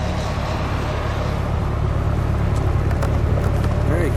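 The turbo engine of a red 1991 Dodge Daytona Shelby idles, a steady, low, close rumble with voices talking briefly over it.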